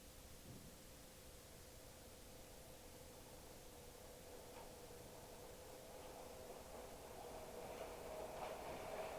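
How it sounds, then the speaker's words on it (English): A train rolls along straight tangent track near Route 1 by Notre Dame, a faint, steady rumble with a thin hum that swells gradually louder, with no talk. "our train clicking along some nice tangent track"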